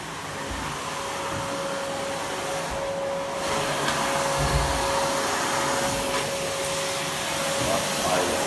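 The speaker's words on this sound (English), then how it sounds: "I still cannot enter my room because he's just vacuuming it" Vacuum cleaner running steadily while a room in a house under construction is vacuumed, a continuous loud whine with a fixed tonal hum, close and unbroken, with some background rumble.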